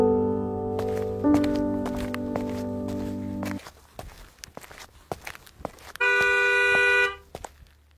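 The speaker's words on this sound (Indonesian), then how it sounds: "Ih, siapa sih klakson-klakson?" A car horn honks repeatedly on a street, first in long blasts and later in one sustained toot, mixed with close footsteps and other brief knocks.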